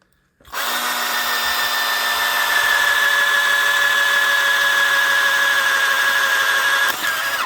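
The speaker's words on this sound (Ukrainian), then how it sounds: "зарядив акумулятор працює, зараз попробую свердлити" A cordless drill starts after a brief silence and runs continuously with a steady high whine, close up, briefly dipping near the end.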